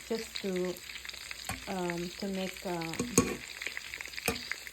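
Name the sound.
ground beef frying in oil in a skillet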